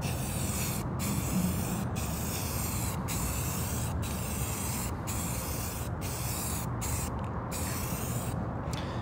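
A spray gun lays paint on door panels in light even passes, a steady close hiss broken by short regular pauses every second or so between strokes, with no talking.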